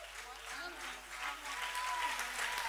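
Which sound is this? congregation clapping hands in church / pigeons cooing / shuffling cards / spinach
congregation clapping hands in church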